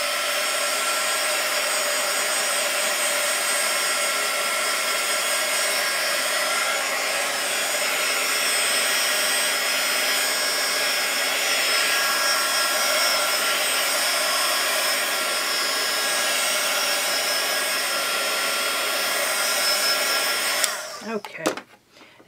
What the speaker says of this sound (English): And now I'm going to use my heat gun